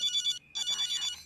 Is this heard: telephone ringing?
yes